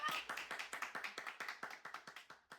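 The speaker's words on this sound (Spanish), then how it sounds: "Vamos a darle un fuerte aplauso a la invitada de este episodio" Applause for a podcast guest comes as a quick, even run of light claps, fairly faint and close, fading slightly toward the end with no talking.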